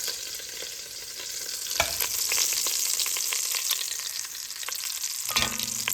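Sausages sizzle hard in olive oil and butter in a pan, a constant bright frying hiss broken by a few scraping and tapping knocks as they are lifted out.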